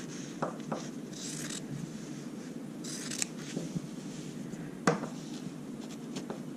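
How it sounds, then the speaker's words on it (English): Scissors snipping through embroidery fabric to trim a circle slightly larger than needed, a few soft separate cuts and faint scrapes, close and quiet with no talk. "So I'm just gonna cut it like right here"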